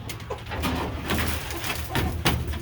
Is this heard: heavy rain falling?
no